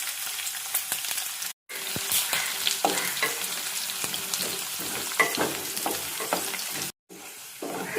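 Split mild chillies frying in oil for a carrot mango pickle give a dense, crackling sizzle with scattered spattering pops and stirring scrapes, close-up, briefly cut off twice.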